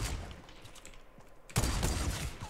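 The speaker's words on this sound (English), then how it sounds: "I'm going to pull out the sniper." A sniper rifle shot in Fortnite Battle Royale, a sudden loud blast partway through after quieter game ambience, then a dense burst of noisy sound that rings on to the end.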